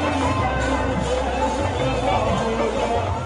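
A crowd of thousands of devotees follows the Mahakal procession through the streets of Ujjain, filling the air with a steady, dense hubbub of chatter and movement, while a narrator talks over it.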